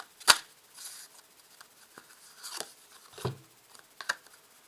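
Tarot cards drawn and laid down during a reading: a few separate, quiet papery snaps and soft slides spread across the moment, with no voice over them.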